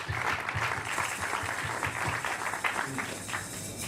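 A church congregation applauds the Lord, with dense, steady clapping from many hands filling the room, close and loud throughout and no break.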